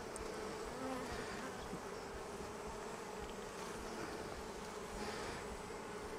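Honeybees buzz steadily around an opened Flow hive with sticky comb, a dense continuous drone of many insects close by, with no voices.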